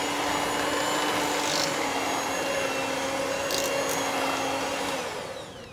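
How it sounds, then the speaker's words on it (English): An electric hand beater whirs continuously at a steady pitch while mashing cooked potatoes, a fairly quiet motor whine that fades out at the end. "now we're going to mash them by using a little trick here, in that we're going to use a little hand beater."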